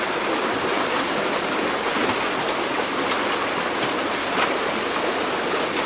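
Steady rushing water of the Rapid River in Tasmania flowing continuously, a broad even wash of sound with no voices.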